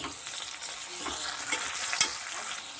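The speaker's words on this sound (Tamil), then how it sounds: "தக்காளி நல்லா வதக்கலாம்" Onion and tomato sauté in a pan for kuska, giving a steady close sizzle with a few soft stirring clicks over a short stretch.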